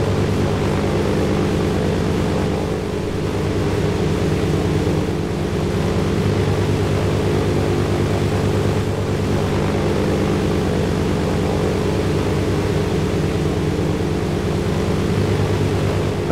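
A biplane engine drones steadily in flight in a video game, a constant loud hum with no voices.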